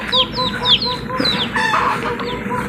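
Chickens raised behind a rural house cluck and squawk repeatedly, several birds calling close by in quick overlapping bursts, with a rooster-like call mixed in.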